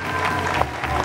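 Audience on a French talk show applauds a sold-out first concert announcement: a short, steady burst of clapping with some crowd noise, fairly close.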